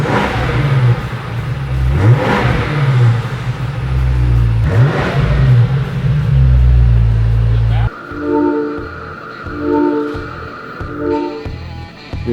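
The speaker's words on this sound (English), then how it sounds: "the sounds this car is making is crazy." A BMW M5 G90 with a twin-turbo V8 and Valvetronic exhaust revs hard, loud and close, with rising and falling surges, then settles into a choppier, burbling idle with sharp pulses.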